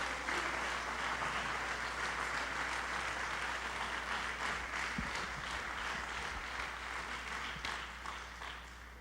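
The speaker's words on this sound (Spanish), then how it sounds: "Dele un aplauso al Señor por eso." A church congregation gives sustained applause, a thick, continuous clatter of many hands at even loudness with a few louder claps, fading slightly toward the end beneath a low steady hum.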